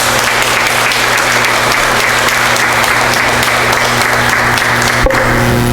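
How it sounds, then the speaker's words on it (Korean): A church congregation gives a guest preacher a long, dense round of applause, loud and continuous throughout, with a faint low hum underneath. "하나님께 영광의 박수로 환영해 주시기 바랍니다"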